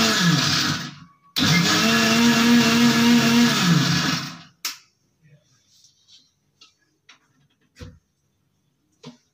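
A kitchen blender grinds 250 grams of milk for a homemade mass gainer shake, a loud steady motor whir for about four seconds after a short first burst, then small clinks and handling sounds.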